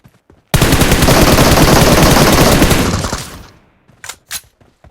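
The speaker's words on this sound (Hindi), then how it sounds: "मुझे गोलियां चलने की आवाज़ आती है पीछे साइड से" Rapid automatic gunfire in the PUBG Mobile battle royale game, a loud sustained burst lasting nearly three seconds, followed by a couple of shorter separate shots.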